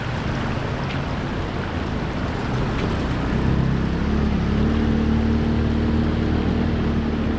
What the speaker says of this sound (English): Oh, there's a vehicle on the beach.